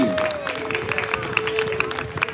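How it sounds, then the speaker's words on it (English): An audience claps to welcome a string band onto the stage at a live radio show. The applause is moderate and fairly steady, with a sustained tone running underneath it. "Let's give them a big round of applause."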